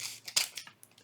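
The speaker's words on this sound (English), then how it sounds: "now I'm going to cut" Scissors snipping through paper for a mini flip journaling book, a few close, crisp cuts in quick succession within a second, one stronger slice standing out, no voices.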